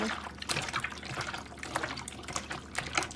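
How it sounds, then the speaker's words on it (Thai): Vinegar poured onto pork intestines for washing, a close, steady wet splashing and trickling with small drips, heard alone for a few seconds. "จะใช้น้ำส้มสายชูล้าง ใส่ลงไปเลย"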